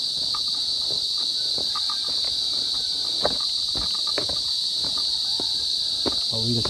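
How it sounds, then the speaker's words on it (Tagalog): Crickets chirp in a dense, constant high-pitched drone, with scattered faint clicks and rustles underneath, among mahogany trees in the Philippines. "Narinig natin yung mga kuliglig"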